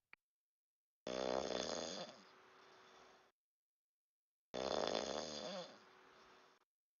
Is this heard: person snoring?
yes